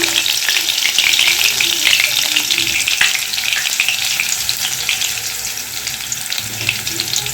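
Cinnamon and crushed garlic fry in hot oil for ghugni, a loud, close, continuous sizzle with crackling bursts and occasional stirring, no talking over it.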